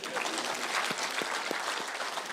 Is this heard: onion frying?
no